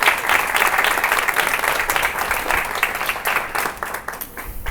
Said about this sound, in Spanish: nuevamente también un fuerte aplauso